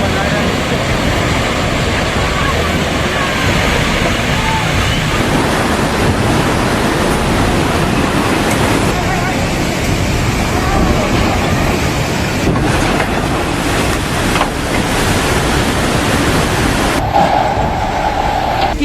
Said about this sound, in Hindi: और कोसी नदी उफान पर है